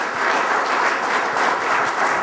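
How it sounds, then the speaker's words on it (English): An audience at a conference session on asset management and performance measures claps steadily for a couple of seconds, a dense, even round of applause with no voices. "If we give them all a big round of applause."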